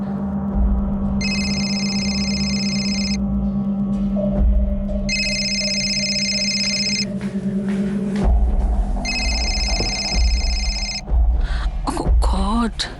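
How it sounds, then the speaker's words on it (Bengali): A telephone rings in three loud electronic bursts separated by short gaps, with low room hum and brief voices and rustling in between. "কার ফোন বাজছে?"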